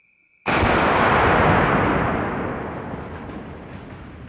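.22-250 rifle firing a Hornady V-MAX bullet into a watermelon: a single sharp, loud crack after brief quiet, followed by a long decaying outdoor rumble.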